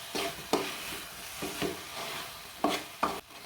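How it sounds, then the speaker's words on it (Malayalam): Ground coconut stirred into jackfruit kumbil appam batter in a bowl, with about six short, wet scraping strokes close up and no voices. "ഇനി ഇതുകൂടി നന്നായിട്ട് ഇതിലേക്ക് മിക്സ് ചെയ്ത് ചേർക്കാം."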